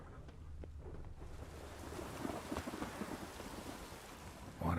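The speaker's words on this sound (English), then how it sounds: "A storm, damn it." Heavy rain from a thunderstorm in The Witcher 3 video game pours down in a steady wash, with deep thunder rumbling underneath and growing louder near the end; no one speaks.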